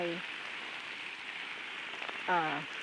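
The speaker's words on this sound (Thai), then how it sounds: "สิ่งที่สวนเนี่ยจะใช้สายยางฉีดอย่างนี้ ทุกเช้า" A garden hose sprays water steadily over vegetable plant leaves in a farm garden in the morning, a continuous close hiss and patter, with brief speech at the start and end.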